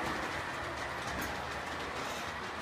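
An MTH Santa Fe model train locomotive running on a layout, a steady continuous rumble and rail hum with no clear clicks, moderately loud throughout.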